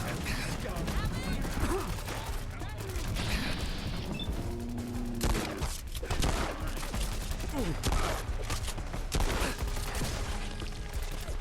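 A big gun firing in the video game Fallout: London: repeated bursts of heavy gunfire at moderate volume, mixed with other game sounds, while a player talks throughout.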